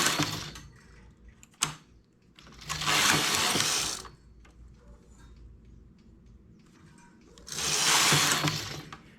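The carriage of a knitting machine slides across the needle bed twice while knitting the front of a blouse. Each pass is a loud, broad mechanical whoosh and rattle lasting over a second, with quieter clicks and handling noises between, and no voices.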